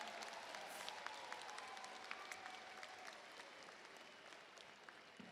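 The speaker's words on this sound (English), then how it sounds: "Let's give Ian a round of applause" A crowd at a graduation commencement ceremony applauds steadily, a dense patter of many hands clapping at a moderate distance, holding even for several seconds.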